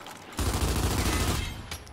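A sniper rifle shot in a Gears video game on PC, a sudden heavy blast with a rolling, fading tail, fairly quiet overall, followed by a faint sharp click.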